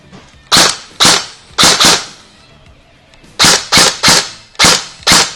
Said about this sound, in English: And let me go ahead and shoot it.